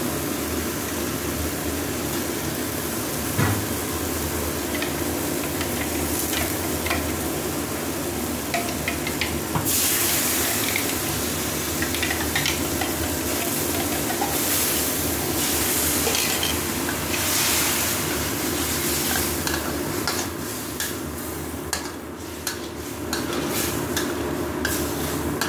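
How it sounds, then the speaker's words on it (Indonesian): A spicy chicken liver stir-fry sizzles and hisses loudly in a pan as water is poured in, followed by steady bubbling, steam and occasional scraping of a spatula stirring, with no talking. "tambah air ini"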